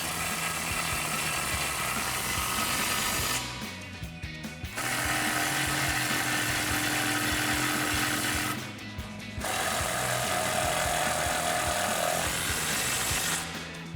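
An impact wrench with an 18 mm socket tightens the bolts of a Body Armor 4x4 Ambush Series front bumper on a 2019-2024 RAM 1500. Three long, loud, rattling hammering runs are split by brief pauses, close by with no talk.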